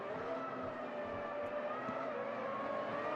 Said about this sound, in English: It sounds cool too, the whole mix of different engines.